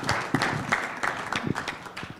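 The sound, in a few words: audience applause for a conference panel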